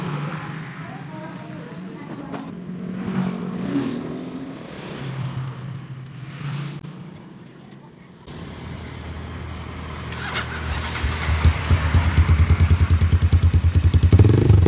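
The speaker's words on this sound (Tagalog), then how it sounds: "start na natin ang kanyang motor" A Honda XR200 motorcycle engine with a replaced ignition coil cranks and then catches, settling into a loud, rapid, rumbling idle after a stretch of clattering mechanical noise and a few voices.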